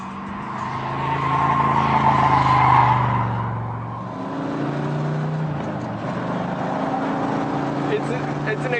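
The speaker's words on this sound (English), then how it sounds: "It's an experience driving this thing fast." A 2015 Chevrolet Corvette Stingray is driven fast, its engine a loud, sustained roar with rising and falling pitch as the revs swell, peak and settle again.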